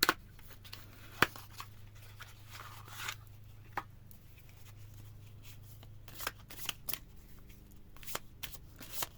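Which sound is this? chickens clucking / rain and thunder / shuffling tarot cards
shuffling tarot cards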